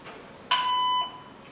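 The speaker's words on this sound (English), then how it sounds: "Leave a message after the beep" A single electronic voicemail beep sounds clearly, a steady pure tone lasting about half a second over a faint hiss, with no talking.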